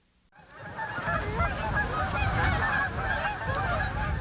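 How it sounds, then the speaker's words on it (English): A flock of Canada geese honks loudly and continuously, many overlapping nasal calls starting abruptly and filling the clip. "Canada geese"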